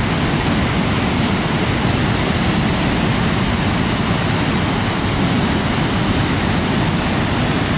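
Silver River Falls in Skanee rushes in a steady, loud broadband roar of falling water, close and continuous with no voices over it.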